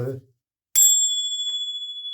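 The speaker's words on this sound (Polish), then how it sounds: "Pierwszym będzie taki fajny dzwoneczek, niestety bez tak zwanej duszy." A small metal bell used as an airgun target rings out with a sharp strike and a long, sustained pure tone that slowly decays, clear and close after a brief bit of speech.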